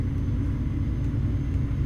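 Truck engine in Euro Truck Simulator 2 rumbles low and steady as the rig brakes hard, a continuous close drone with no talking.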